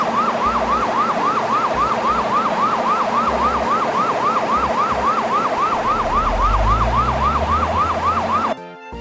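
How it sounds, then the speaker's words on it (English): A wailing ambulance siren sweeps up and down steadily and loudly, with a low engine rumble rising near the end before the siren cuts off. "It is an emergency ambulance."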